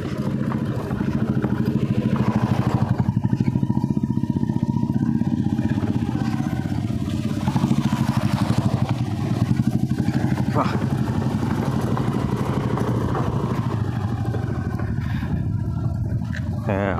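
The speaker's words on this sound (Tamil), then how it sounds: "அப்படியே மெல்ல போக ஒரு என்ஃபீல்டு வருது." A Royal Enfield motorcycle makes its way slowly along a rough dirt road on a hilltop, a steady low engine thrum with rattling clatter that holds throughout at moderate distance.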